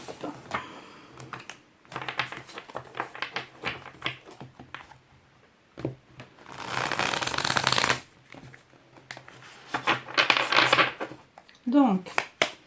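Tarot cards being shuffled for a reading, heard as close riffling and flicking bursts with soft card taps between them and a longer burst near the end. A voice speaks briefly in the background.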